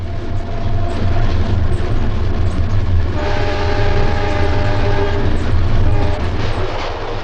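An eastbound South Shore electric interurban train of orange 1929 steel coaches rumbles loudly past rounding a curve, with a low steady roar; midway a sustained horn sounds over the rolling wheels, staying close throughout.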